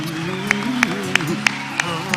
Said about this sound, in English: I want you to clap your hand for him,